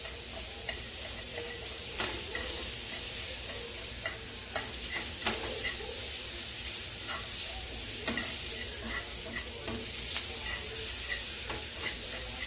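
Onions stir-fried on a home hibachi-style cooktop sizzle steadily and close, with frequent scraping and tapping of the spatula punctuating the continuous frying hiss.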